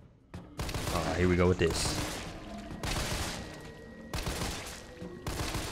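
Gunfire from the game Resident Evil 3 Remake comes as several bursts of sharp shots spread over a few seconds, with someone talking over parts of it.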